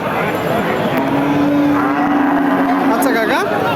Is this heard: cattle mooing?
yes